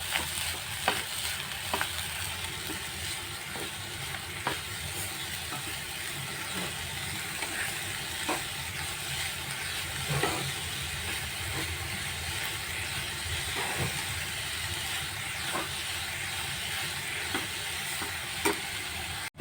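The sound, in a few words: stirring jaggery filling in pan for modak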